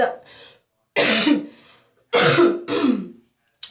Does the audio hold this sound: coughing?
yes